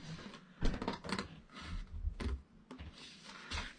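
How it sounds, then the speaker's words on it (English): Scissors cutting around the bottom of a piece of card for a Pharaoh craft activity, a run of irregular crisp snips and rustles, close and fairly quiet, with no talking. "continue to cut around the bottom part here"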